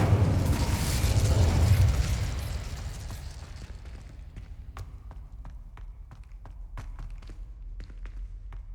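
Incendio fire spell cast in Hogwarts Legacy, a loud whooshing fiery burst for about two seconds that fades into quieter clicks and footsteps.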